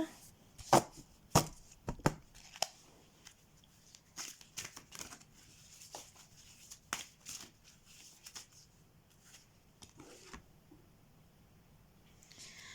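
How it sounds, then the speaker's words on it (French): Oracle cards from a Da Vinci-themed deck are shuffled by hand, producing a string of sharp riffling slaps and soft card rustles in irregular bursts, close and fairly quiet, with no talking. "Donc, on va mélanger les cartes."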